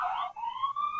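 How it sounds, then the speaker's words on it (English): A police siren wails with a rising, sustained electronic tone that briefly dips and then resumes steady and loud, alone without talk. "The sirens."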